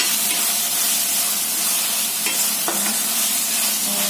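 Spice masala with red chilli powder fries in oil for spicy eggplant bharit, making a loud, steady close sizzle with a few soft stirring scrapes and no talk.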